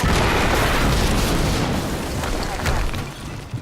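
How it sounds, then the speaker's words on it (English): A loud, rumbling explosion from the video game Quantum Break fills the clip with dense, roaring noise that holds steady for several seconds before slowly thinning out. "we just heard an explosion near the harvesting perimeter"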